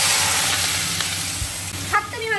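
Onions frying in hot oil in a home kitchen, a steady loud sizzle that fills the whole stretch, with faint stirring scrapes near the end.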